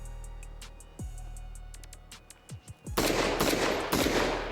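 In the video game Arma Reforger, an unsuppressed AR-15 Beowulf rifle chambered in .50 caliber fires several sharp, spaced single shots, then a dense, rapid burst of loud gunfire.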